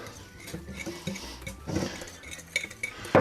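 A utensil stirs a sugar-free cookie mixture in a bowl, with soft scraping and occasional light clinks against the side, close and fairly quiet, ending in a louder knock.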